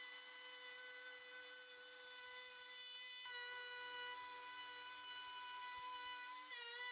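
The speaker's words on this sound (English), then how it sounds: "Just set up the Dremel in the Plunge router at a high RPM. Set the bit to a reasonable depth and run the bit along the edges of the plank." A Dremel rotary tool mounted in a plunge router, fitted with a chamfer bit and running at high RPM, whines steadily as it routes along the edges of a wooden plank. The pitch shifts slightly partway through, with no speech.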